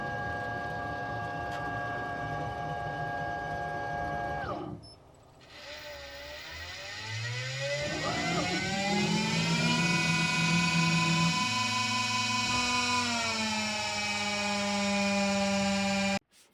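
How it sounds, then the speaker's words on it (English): A CNC machine cutting a final chamfer on a metal suspension block, a high whining spindle tone that stops briefly, then returns with rising, shifting pitches and a steady drone, moderately quiet. "I'm just going to put a final chamfer on just because it's a very easy thing to do at this stage."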